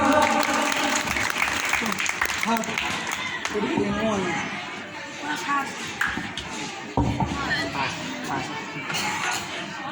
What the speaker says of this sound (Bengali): হাততালি দাও একবার।